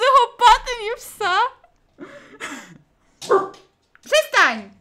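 A dog barks, yips and growls in short bursts with gaps between them, close and loud, and some whining sounds are mixed in.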